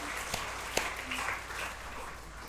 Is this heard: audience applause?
yes